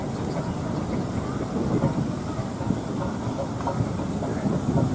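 Steam traction engines rumble past in a rally parade at the Woodcote steam rally, a continuous low chugging and clanking with a steady hiss, fairly close and loud throughout.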